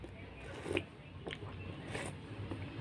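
Close-up eating of hot fish soup with squash at lunch, soft slurps and chewing crunches in a few brief bursts over a quiet room background.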